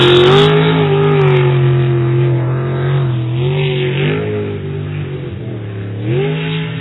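A race car engine roars loudly on track during qualifying, its pitch rising and falling as the driver revs, eases off and accelerates again, with no voices over it.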